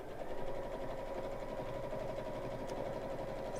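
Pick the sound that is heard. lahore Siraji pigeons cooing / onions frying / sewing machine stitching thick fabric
sewing machine stitching thick fabric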